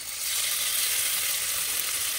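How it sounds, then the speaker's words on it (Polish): Steady, bright sizzling of meat frying in hot fat, close and continuous with no talking. "na taki na rozgrzany tłuszcz będę kładł mięso"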